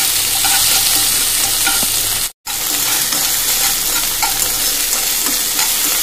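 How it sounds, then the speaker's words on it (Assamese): Chopped onion, ginger and garlic fry in hot oil, a loud, continuous close sizzle with stirring, briefly dropping out to silence midway before the sizzle resumes. "তেলখিনি গৰম হোৱাতে ইয়াতে কাটি লোৱা পিঁয়াজ আদা নহৰু যিখিনি আছিলে গোটেইখিনি অকণমান সফ্ট হোৱালৈকে ভাজি ল'ম"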